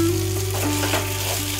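Chilli bhaji filling stir-fries in hot oil in a pan, a steady close sizzle with scraping stirs, no voices.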